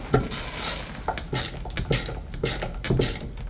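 Ratcheting screwdriver turned in short bursts, giving quick mechanical clicking runs with a repeating rhythm, close and fairly loud, without talk.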